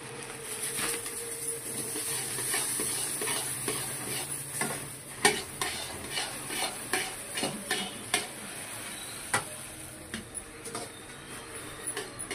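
A spoon stirs a sweet jaggery and puffed rice mixture in a hot pan, with a constant soft sizzle and repeated scraping knocks against the metal, close but fairly quiet.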